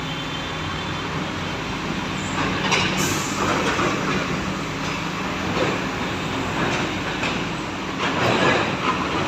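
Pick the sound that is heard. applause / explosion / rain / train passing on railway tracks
train passing on railway tracks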